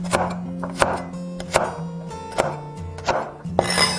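Kitchen knife chopping garlic cloves into small pieces on a cutting board, a series of sharp, close thuds spaced in an irregular rhythm, with no talking.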